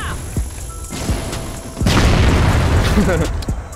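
A grenade blows up in a first-person shooter game, a loud heavy boom landing mid-clip after some smaller pops, with a voice shouting and talking around it.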